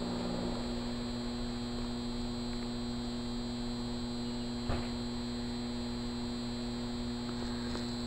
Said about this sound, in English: If you listen quietly, hopefully you can hear them Transformers humming.